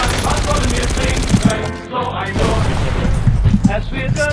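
Sniper shots and other gunfire ring out in a Warzone video game match, with dense, loud bursts that stop briefly and then resume, heard close and mixed with game sounds.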